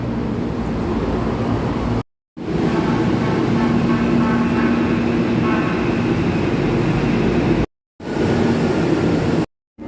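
Ride aboard an LRT light rail train in Manila heading to Baclaran, a loud continuous rumble of wheels on track with a high steady whine, interrupted by a few brief cuts.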